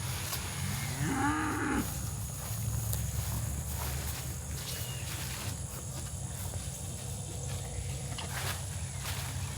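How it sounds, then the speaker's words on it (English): Cows on a farm let out a loud, drawn-out moo near the start, followed by quieter lowing and shuffling over a steady background hum. "your cows, they sound like they're starving. They're howling and starving"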